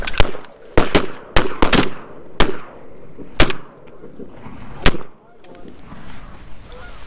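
Several sharp shotgun blasts during a goose hunt, a quick volley of shots spaced unevenly over a few seconds, loud and close, with quieter outdoor background between them.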